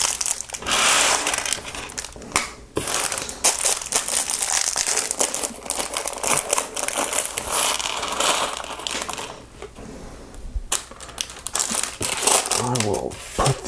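Plastic bags of parts from the Lego Ninja Turtles Shredder's Lair Rescue set being emptied, with continuous loud close crinkling and rustling mixed with small pieces rattling and spilling out.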